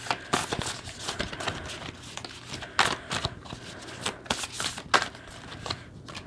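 Oracle cards shuffled by hand in a quick series of soft riffling bursts and papery taps, close and fairly quiet, with no talking.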